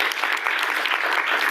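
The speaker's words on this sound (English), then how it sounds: "I will also thank a big round of applause for Pam McElwee" A symposium audience gives a steady round of applause in thanks to an organizer, a brief, even patter of many hands clapping close by.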